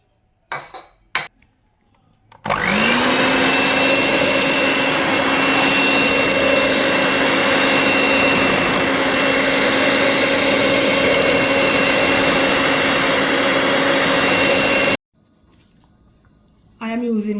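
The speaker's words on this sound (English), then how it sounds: "Adding our mashed banana, ripe banana that is. And we're just gonna whisk that in." Whisking mashed ripe banana into wet vegan fruit cake ingredients: a loud, steady motorized whir runs unbroken for about twelve seconds, close by, with faint clatter before it starts and after it stops.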